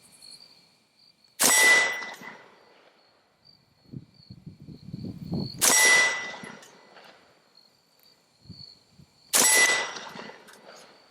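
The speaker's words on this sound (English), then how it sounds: "there's absolutely no issues ringing that steel" Bullets strike a steel target three times, each a sharp, loud metallic clang that rings on and fades over about a second, spaced several seconds apart. Quieter rustling and handling noises fill the gaps, with a faint steady insect-like tone behind.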